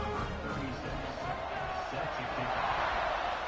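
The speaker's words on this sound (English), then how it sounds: "Listen to this crowd." Dense roar of a college football stadium crowd during USC vs Oregon, a steady broadband wash of cheering voices that swells slightly toward the end, continuous throughout.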